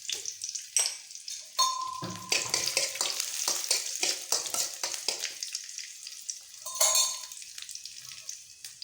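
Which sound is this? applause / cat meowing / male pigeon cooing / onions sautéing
onions sautéing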